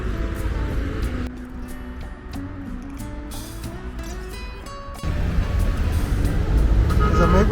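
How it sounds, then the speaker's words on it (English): Rush-hour traffic on a street in Cusco at about five o'clock: engines idle and rumble close by, with vehicles moving and a brief horn toot, and the sound swells louder near the end. "even in Cusco, 5 o'clock traffic is pretty crazy"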